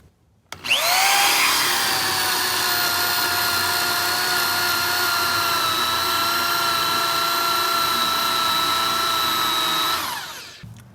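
A power drill spins up and whines at a steady high pitch for about nine seconds, loud and close, then winds down to a stop.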